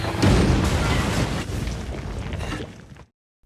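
A bomb blast tearing apart a place in the animated film Nezha Reborn, one loud booming explosion with crackling rumble that rolls on for about three seconds before cutting abruptly to silence.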